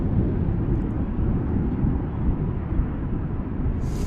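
A jet airliner at DFW airport rumbles steadily with a broad, deep roar as it moves onto the runway, loud and unbroken across the whole stretch with no voices.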